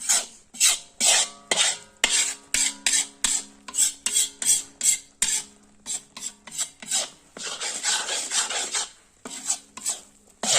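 Panjiri is roasted while being stirred in a pan, making loud, close, rhythmic scraping strokes about twice a second. A longer continuous rasp comes near the end, with no talking.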